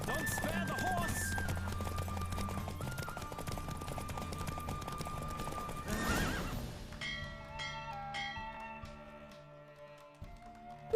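Galloping horse in a race in the video game The Witcher 3, steady hoofbeats and neighing for about six seconds, then a burst of noise giving way to bright bell-like chimes as the galloping fades.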